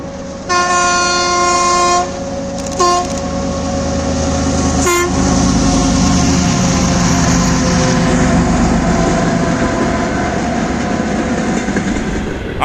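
A train horn sounds several times, then a loud train rumbles past close by with steady rolling clatter.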